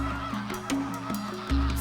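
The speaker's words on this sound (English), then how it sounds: "It's a pink tide of flamingos." A huge flock of flamingos crowds a caustic soda lake, their dense nasal honking overlapping in a constant clamor with sharp calls jutting out, loud and close throughout.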